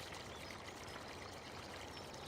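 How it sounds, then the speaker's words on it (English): Steady rushing pour of water as a water tank fills the water fountains for water buffaloes in the video game Farming Simulator 2017, an even, continuous flow throughout. "you'll pull it up next to these water fountains, and it'll fill them up"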